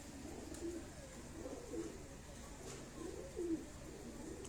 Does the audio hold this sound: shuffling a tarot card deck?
no